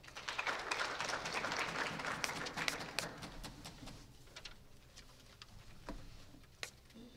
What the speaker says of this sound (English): A round of applause for Mekerol.